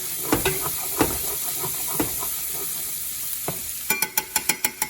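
Onions and bacon frying in a pan, sizzling steadily while being stirred vigorously, with repeated scraping strokes of the utensil and a quick run of sharp clacks near the end.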